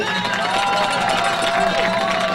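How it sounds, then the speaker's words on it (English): A large crowd at a high school boys' soccer game applauds and cheers for seniors at halftime in a dense, continuous roar, loud and steady from start to end. "give all the seniors a nice warm applause"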